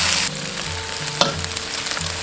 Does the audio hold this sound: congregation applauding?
no